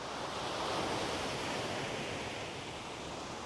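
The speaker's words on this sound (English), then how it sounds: "A little bit of rough conditions, mainly due to the wind." Wind and surf roll along South Beach in Miami, a continuous, steady wash of breaking waves and gusting air with no voices.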